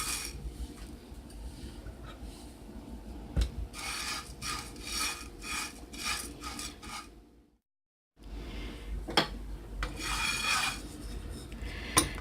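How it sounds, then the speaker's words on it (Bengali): Flattened rice (chira) being dry-fried and stirred in a pan for chirar naru, giving a close, dry scraping and rasping with repeated rubbing strokes, a short silent gap midway, then more stirring. "একটা প্যানে চিরাগুলোকে দিয়ে ভেজে নিব।"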